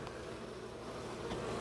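Honeybees drone in a steady, dense buzz throughout a spring hive inspection, filling the clip at an even level with no pauses.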